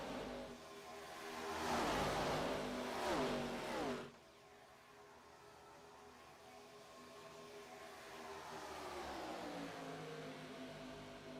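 Race car engine in a Daytona racing game, Chrysler/Dodge/Jeep/Ram Gen 4 series, roaring loudly for several seconds with rising pitch, then dropping to a steady lower drone before building again as it gets back up to speed.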